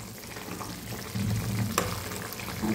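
Papaya simmering in sugar water in a pot, a soft continuous bubbling sizzle, close and fairly quiet, with a faint stir or clink midway.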